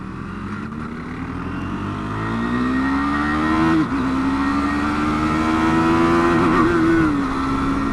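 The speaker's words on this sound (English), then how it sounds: "I hit the rev limiter there." A KTM 390 Duke motorcycle at speed: the engine whine climbs steadily to the rev limiter, where it briefly cuts and stutters, then holds high again over loud wind roar, heard from the rider's position.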